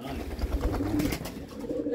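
A light blue bar racing pigeon coos softly close by in a low, rolling murmur, with faint voices and handling noise in the background.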